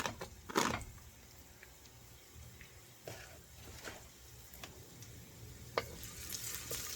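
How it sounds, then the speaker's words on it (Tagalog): Garlic sautéing in cooking oil for a chicken and pork hardinera dish, a steady soft sizzle with a few sharp stirring clatters near the start and later, close by with no talk. "Gisa na natin mantika at bawang."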